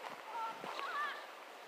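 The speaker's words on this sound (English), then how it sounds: "There's the geese." Several geese honk in short nasal calls, moderately close, over a low background hum with a faint voice in the mix.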